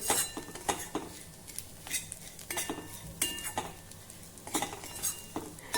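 Edible gum and wheat flour roast in a pan as a metal spoon stirs and scrapes steadily, giving repeated close clinks and scratches over a faint sizzle.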